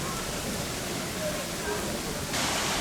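A big waterfall and river in a zoo elephant yard make a steady, loud, broadband rush of falling water that fills the whole clip without a break.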